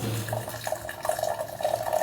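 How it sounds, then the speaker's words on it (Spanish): Freshly boiled water pours into a glass for about two seconds, a close, steady liquid gurgle with no talk. "en el siguiente vaso vamos a poner también un cuarto de agua"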